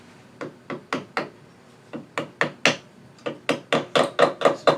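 A cherry burl box lid is tapped down into a tight jam fit, a series of about eighteen sharp wooden knocks in uneven bursts that grow louder toward the end, close and with no speech.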